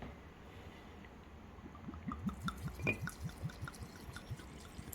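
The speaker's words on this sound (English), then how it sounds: "So now what we're going to do is we're going to pour in the bad stuff." Liquid poured into a jar over mashed echinacea, heard as a run of soft close glugs and drips that starts about halfway through and pulses unevenly, with a brief bright splash near the middle.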